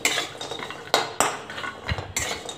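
Dried coconut roasting in oil in a pan for a dark masala: repeated metallic scrapes and clinks of a spoon stirring against the pan, several sharp knocks, over a faint frying hiss, close by and without talk.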